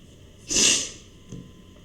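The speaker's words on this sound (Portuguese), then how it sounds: "De repente me deu uma alergia, deu umas espirradas aqui do nada" A person sneezes once, loud and close, in a sudden allergy fit, with a faint second huff about a second later.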